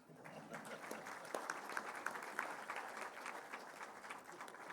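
Scattered clapping from a conference audience at the opening session of the EVF Conference, a thin, fairly quiet patter of hands with a few sharper claps standing out and no talk.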